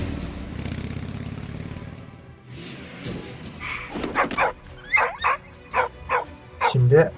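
A dog in the World War I video game Valiant Hearts: The Great War barks in a run of sharp, evenly spaced yips and woofs after a stretch of low rumbling game sound, the barks loud and close.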